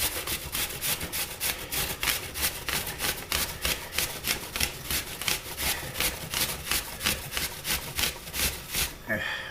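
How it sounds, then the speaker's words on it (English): Half an apple rasps rhythmically across a kitchen grater in fast, even back-and-forth strokes, close and fairly loud, stopping near the end. "So I'm going to grate half this apple"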